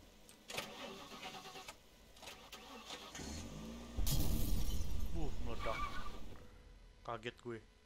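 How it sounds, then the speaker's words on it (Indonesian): In the video game The Last Stand Aftermath, a car engine revs under game sounds, then the car explodes in a loud rumbling blast that lingers for a couple of seconds, with voices talking throughout. "Kaget gue, meledak tiba-tiba."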